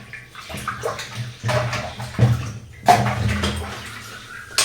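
A kadai being washed and scrubbed under running water at a kitchen sink, with steady splashing and sloshing punctuated by a few louder knocks and scrapes of the metal pan.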